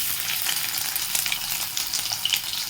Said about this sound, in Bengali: তেলটা গরম হয়ে গেছে এরপরে এক এক করে সয়াবিনগুলো ছেড়ে দেবো